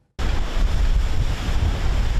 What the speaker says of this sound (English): As the waves roll off Lake Ontario, pounding the icy shoreline